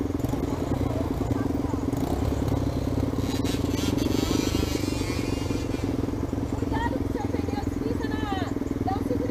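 A trail motorcycle labours uphill on a difficult off-road track, its engine droning steadily and close throughout, with people talking over the noise.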